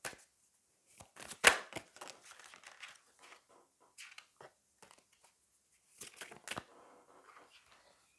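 Tarot cards are handled and drawn, with sparse, quiet riffles, slaps and crisp flicks of card stock, a sharper snap early on and scattered soft rustles in between.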